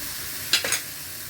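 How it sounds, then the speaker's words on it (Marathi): Spices and jaggery being sautéed in a hot pan give a brief sizzle with a couple of quick stirring scrapes, close and short, over a low steady background hiss. "आणि गूळ घालते हे चांगलं परतून घेते"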